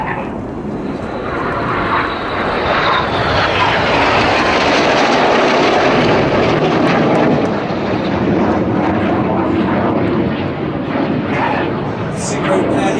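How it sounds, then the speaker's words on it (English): Jet display aircraft from the Red Arrows team close in at high speed during the 2014 Farnborough air show, making a loud, continuous roar that swells and holds for the whole stretch. "These 4 aircraft are now closing at 850 miles an hour."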